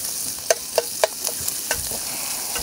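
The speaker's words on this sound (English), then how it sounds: "I'm gonna throw the bacon in. And I'm just gonna get a little bit of color on that bacon." Bacon sizzles in a pan under a steady hiss, punctuated by a handful of sharp, close clicks and scrapes of a utensil at irregular intervals.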